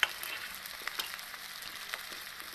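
Potatoes for batata vada go into hot oil and fry with a steady, soft sizzle and light stirring clicks, close but subdued, with no talking.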